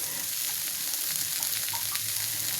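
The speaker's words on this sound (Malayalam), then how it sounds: "അതിലേക്ക് നമ്മൾ അരിഞ്ഞു വെച്ചിരിക്കുന്ന പാവയ്ക്ക അതിലേക്ക് ചേർത്ത് കൊടുക്കാം." Sliced bitter gourd frying in a pan with onions already browned gives a steady, close sizzle and crackle that continues without any talking.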